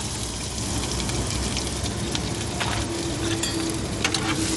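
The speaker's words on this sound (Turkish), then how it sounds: "almış olduğumuz zeytinyağımızı kızan tavamızın içine döküyoruz. Sonra soğan ve biberimizi" Onions and peppers fry in olive oil in a hot pan, giving a loud, steady sizzle with crackles and a few stirring scrapes, with no talk.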